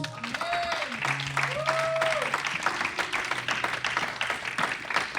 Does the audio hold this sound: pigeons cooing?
no